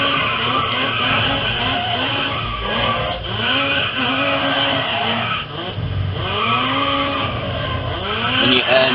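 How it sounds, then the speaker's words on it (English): A car drifts in the racing video game GRID Autosport, its engine revving and roaring loudly while tires squeal in repeated rising and falling swoops through the whole stretch. "drifting is a lot more realistic in this game compared to"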